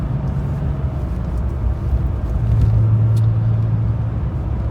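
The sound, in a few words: 1998 Porsche 911 Turbo air-cooled car driving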